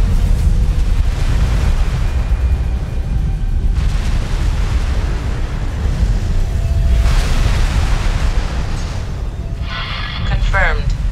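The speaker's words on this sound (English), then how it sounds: "Explosion imminent." A station blowing up during a demolition in the space game X4 Foundations, with deep rumbling booms and a sustained roaring blast, loud and continuous. Some faint electronic chirps come near the end.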